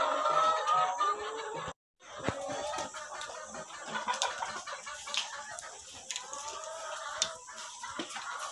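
Laying hens cluck and chatter continuously inside a poultry house near Abidjan, a busy layered flock sound with a short cut of silence early on.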